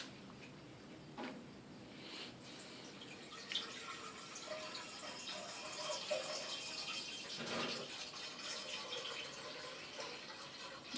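Faint running water from a tap as sulfur is washed in clean water, with soft splashes and a few louder sloshes, continuous and fairly quiet throughout.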